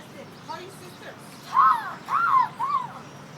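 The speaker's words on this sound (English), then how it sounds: "Look at all these birds." Several all-black birds in a flock give three loud, harsh caws in quick succession over faint outdoor background noise, about 100 miles from San Francisco.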